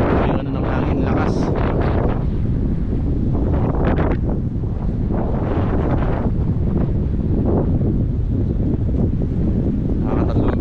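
Strong wind buffets the microphone on a small fishing boat at sea, a loud continuous roar with gusty low rumbling and occasional water sounds, no pause throughout.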